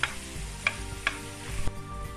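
Chicken sizzling in a hot pan, a steady close fry with a few sharp ticks and clacks of stirring, no talking.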